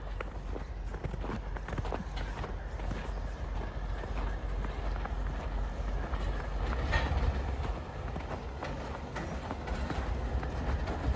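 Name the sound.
train passing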